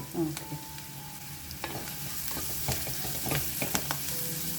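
Onions with curry leaves and turmeric frying in a pan for a potato breakfast dish, making a low, steady hiss with scattered scraping stirs at close range and no voices.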